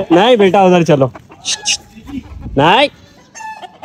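Aseel roosters crow and cluck nearby while fighting a neighbor's rooster, with a person speaking briefly over the birds and other farmyard noise.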